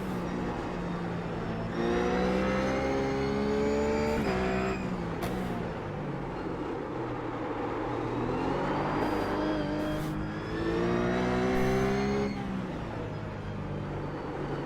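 Race car engine in iRacing at the Zandvoort circuit, a steady, loud, near drone that climbs in pitch through the gears, dips briefly around a shift or braking point, then rises again, running continuously with no talk.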